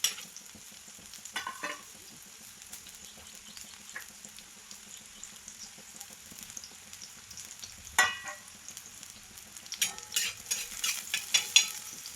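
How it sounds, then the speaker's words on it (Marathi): Onion sizzles softly in an iron tawa for a hadga (agathi) flower vegetable dish, with a faint, low frying hiss and intermittent bursts of spatula scraping and stirring that grow busier toward the end. "कांदा हा भाजत आलेला आहे"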